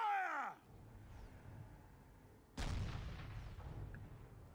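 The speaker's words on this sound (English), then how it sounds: "Cannon firing." A cannon fires in the Warhammer: Mark of Chaos battle game, a single sharp boom followed by a rumbling roll of sustained battlefield noise, loud and close, with a falling tone fading out at the start.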